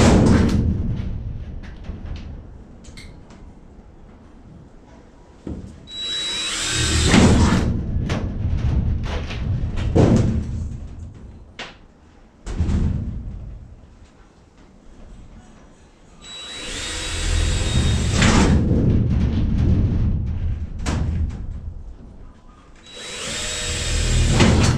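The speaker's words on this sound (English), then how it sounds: "I got my drill with a 3/16 drill bit here." A power drill with a 3/16 bit bores through trailer wall in three long bursts, a loud whining grind rising and falling, separated by quieter stretches of handling noise.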